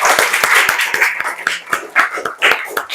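Scattered clapping in a classroom after a group presentation, sharp hand claps repeating unevenly over a few seconds at moderate volume with no voices.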